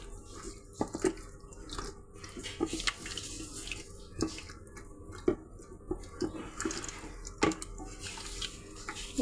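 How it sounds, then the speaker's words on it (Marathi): Paneer biryani gravy mixture with oil being mixed by hand in a large pot, giving soft wet squelching and sloshing sounds with irregular small clicks and taps, close and fairly quiet, with no talking. "आपण हाताने मिक्स करायचं आहे आपल्याला।"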